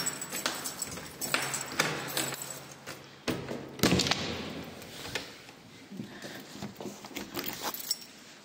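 Keys jangling while a door is opened, in shared accommodation in the Czech Republic: close, bright metallic jingles and light clinks in irregular clusters, with a few thuds from handling the lock.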